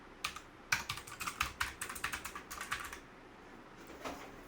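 Typing on a Dawg Highkey 685 mechanical keyboard fitted with black switches: a close, steady run of crisp keystroke clacks in quick bursts, with a short pause near the end before a few more presses.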